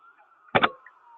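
An ambulance siren holds a faint, steady wail in the background, interrupted by a brief, sharp burst of noise partway through.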